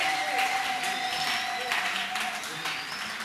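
A church congregation at a worship service breaks into acclamation, a dense wash of clapping and cheering voices that stays steady and fairly loud throughout, with a sustained tone running underneath.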